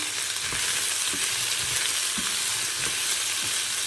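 Vegetables stir-fried in a pan with already browned onions and spices, giving a loud, steady, close sizzle with rhythmic scraping stirs roughly every half second.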